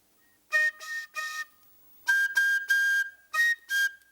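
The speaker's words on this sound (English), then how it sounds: "we should be able to get a whistle out of it." A homemade swanee whistle made from scrap pipe gives a series of short, clear whistled toots in two bursts with brief gaps between them. The pitch shifts slightly from note to note, and it sounds close and alone.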